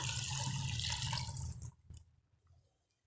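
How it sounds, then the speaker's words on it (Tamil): Water poured from a vessel into a pot of Tamil vegetable kuzhambu gravy, a steady rushing pour for over a second that stops abruptly, followed by faint drips and settling. "இப்போ நாம் இதில் தண்ணி ஊற்றிக்கலாம்."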